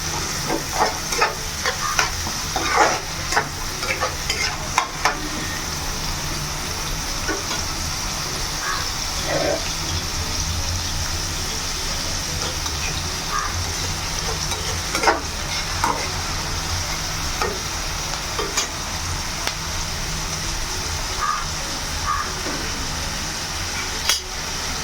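Mutton curry stirred in a pan over a constant sizzle and bubbling, a spoon scraping and tapping the pan in irregular strokes across nearly half a minute, close and steady.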